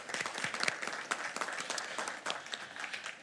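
Applause from a city commission meeting audience in Dania Beach, a dense spread of many hands clapping steadily throughout at moderate level.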